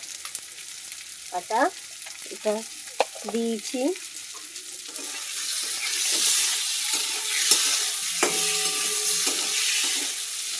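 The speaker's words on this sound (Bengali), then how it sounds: "মশলাটা কষতে আপনারা দেখতে পাচ্ছেন।" Spices with salt and turmeric being fried and stirred in oil for green banana kofta, starting with someone speaking briefly over a faint pan, then a steady close sizzle with scraping from the spoon.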